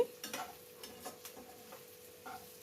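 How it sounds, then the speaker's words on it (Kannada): Vegetables fry in a pan, faint and close, with soft sizzling under light scraping and clicking strokes of a spatula stirring. "ನೀಟಾಗಿ ಎಲ್ಲನೂ ಚೆನ್ನಾಗಿ ಫ್ರೈ ಮಾಡ್ಕೊಳ್ಳಿ."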